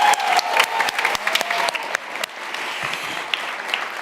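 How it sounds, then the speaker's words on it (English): An audience gives a round of applause for the cast and crew at a Martin Luther King Jr. tribute event, a full, close burst of clapping that starts strong and gradually thins out into scattered claps. "How about another round of applause for our very talented cast and crew?"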